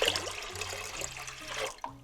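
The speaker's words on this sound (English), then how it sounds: "we're going to go ahead and put 4 cups of water." Four cups of water poured from a container into a cooking pot for ramen, a steady splashing stream that runs about two seconds and cuts off near the end.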